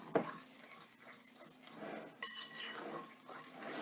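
A spoon stirs banana muffin batter in a bowl, giving soft, uneven scraping and light clinks against the bowl, faint and close, with no talking.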